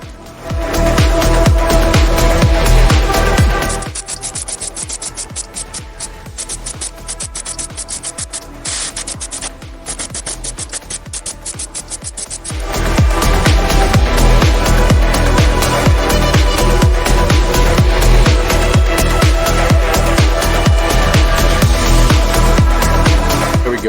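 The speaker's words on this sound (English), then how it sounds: "airbrush this all over them" An airbrush sprays paint over Star Wars Shatterpoint tabletop miniatures with a loud, steady, close hiss that drops to a quieter spray through the middle stretch before returning at full strength.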